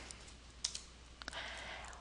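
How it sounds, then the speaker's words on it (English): Light, scattered key clicks on a computer keyboard while entering an Excel formula, a few sharp taps in an irregular rhythm, quiet and close over a faint steady background hiss. "hold down the Shift key and press the number 8 on my keyboard"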